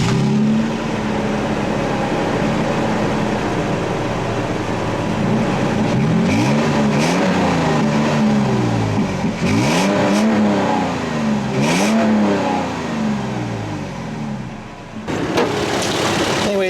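A 2012 Toyota Tacoma pickup's 4-liter 1GR-FE engine idles then revs repeatedly, pitch sweeping up and dropping back several times, loud and close, with a few sharp clicks near the end.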